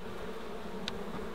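Honeybees swarming in an orange tree, a dense steady buzzing hum filling the air, with one bee zipping briefly close past.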